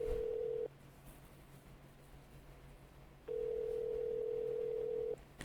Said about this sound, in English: Pick up the phone, Larry.